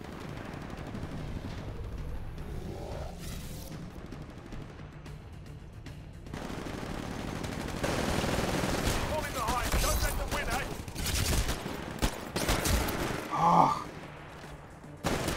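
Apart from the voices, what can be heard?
smart pistol gunfire in the video game Titanfall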